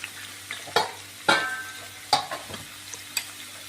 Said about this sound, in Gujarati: ક્રિસ્પી થાય ને ત્યાં સુધી તળવાનું